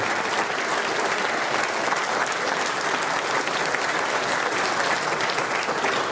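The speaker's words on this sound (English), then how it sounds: "And one big round of applause to Uncle Kage" A large audience gives a big, dense round of applause at the Megaplex convention closing ceremony, loud and continuous throughout with no voices over it.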